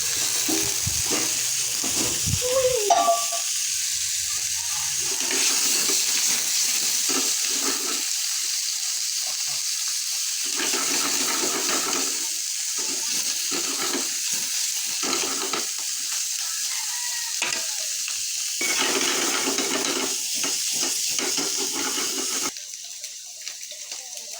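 Sliced mushrooms and mushroom broth go into a hot pan with steady sizzling and frying hiss, punctuated by stirring scrapes and bursts of bubbling liquid throughout.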